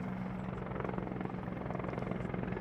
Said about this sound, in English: this helicopter for the modern Czech Air Force has performed sterling work